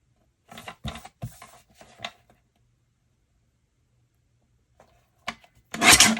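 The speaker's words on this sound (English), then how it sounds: "let's go ahead and cut this into an actual square. Trim that up a little bit" Paper trimmer slicing cardstock in short scraping strokes, a few quick rasping passes close by, a pause, then a final louder cut.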